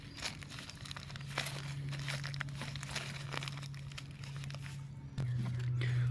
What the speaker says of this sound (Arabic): زي ما واضح قدام حضراتكم نبدأ نطلعها من الكيس.